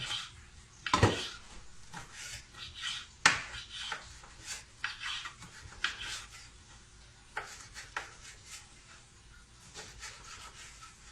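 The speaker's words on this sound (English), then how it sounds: "Go with the seam. Go this way. Cut it this way with the seam." A knife cuts food into strips along the seam on a board, giving soft scraping and knocking strokes at an uneven pace with sharper clacks now and then, close and fairly quiet.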